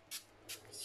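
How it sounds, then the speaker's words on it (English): Three quick hissing bursts of a spray bottle of hydrogen peroxide pumped in succession, close and fairly quiet. "Spray it on it. Don't be afraid to spray it."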